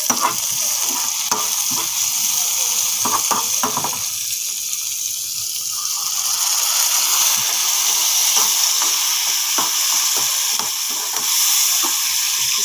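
Oil in a frying pan holding chillies, with a little water added, sizzles and hisses steadily for the whole stretch. A spatula clatters and stirs now and then, and the hiss is loud, close and continuous.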